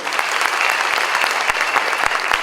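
An audience at a public gathering in Bhavnagar claps together, a dense, steady burst of applause lasting the whole moment, with sharp individual claps standing out from the crowd noise.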